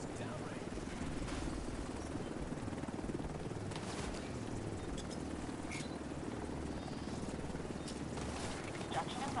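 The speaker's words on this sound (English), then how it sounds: "Helo is on site." Extraction helicopter in the video game The Division 2, a steady, fairly loud rotor and engine drone holding throughout, with faint scattered game sounds on top.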